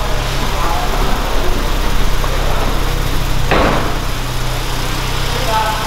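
A Ford Ranger Limited Turbo pickup idles nearby with a steady low engine rumble while being moved into a parking space, a brief clunk midway, and people talking over it.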